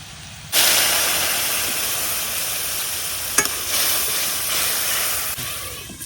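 Ground masala of turmeric, cumin, dried chili, coriander and salt frying in a pan for a small-fish curry at a village cooking spot, a steady loud sizzle and hiss starting abruptly and continuing throughout with one brief clink.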